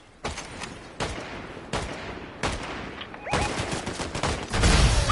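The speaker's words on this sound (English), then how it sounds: "Shooting behind me." Gunfire in the video game Fortnite: several sharp bursts of shots spaced about a second apart, then denser rapid fire building louder toward the end.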